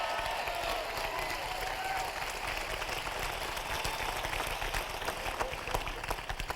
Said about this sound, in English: Whenever we clap with enthusiasm and excitement.